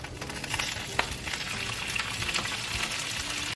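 A second batch of beef crackles and sizzles in a hot pan, a steady dense frying hiss with occasional sharper pops, close and continuous throughout.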